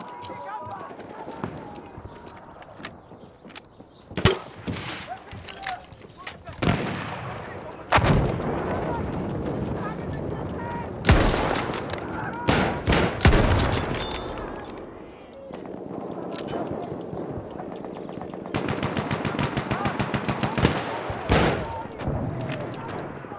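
Battlefield 1 combat with dense, loud bursts of machine gun fire and heavy shots and blasts, rattling in rapid clusters across the whole stretch amid battlefield chaos, with shouted voices mixed in.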